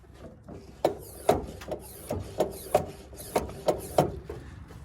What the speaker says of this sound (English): I think we're ready to start pumping this thing up and building some pressure